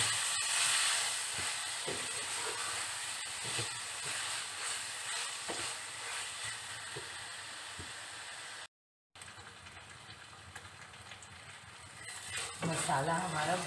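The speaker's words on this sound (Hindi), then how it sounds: "और मसाले को अच्छे से भूनेंगे।" Spices for beef mince keema with potatoes and peas sizzle and hiss in a pan, with steady frying noise and occasional stirring scrapes, briefly cutting out and then returning louder near the end.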